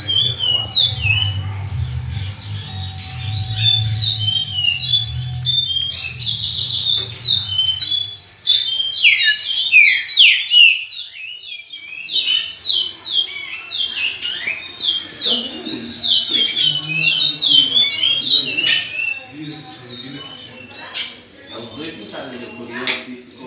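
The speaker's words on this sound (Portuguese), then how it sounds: "Mostrando os passarinhos aí," Songbirds singing in close succession, bright rapid chirps and trills repeating loudly over the whole stretch, with a voice talking underneath at times.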